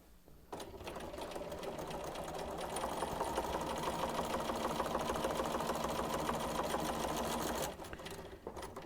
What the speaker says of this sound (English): But go ahead and sew your second strip on